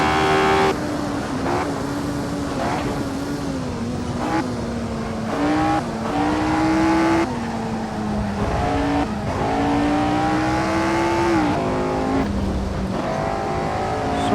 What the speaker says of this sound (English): need to try not to rev the engine so much